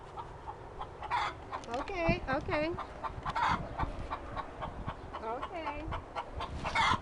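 Chickens cluck and squawk nearby with rising, warbling calls, and a rooster-like crow stands out among them over steady background noise, while a person briefly says a few words.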